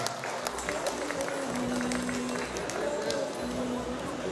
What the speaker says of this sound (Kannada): ಆ ಒಂದು ತಂಡಕ್ಕೆ ನಮ್ಮ ಜಿಲ್ಲೆಯ ಪರವಾಗಿ ಚಪ್ಪಾಳೆ ಮುಖಾಂತರ ಅಭಿನಂದ ಸಲ್ಲಿಸಬೇಕಂತ ಮೊದಲ ವಿನಂತಿಯನ್ನು ಮಾಡ್ಕೊಂಡಿದ್ದೇನೆ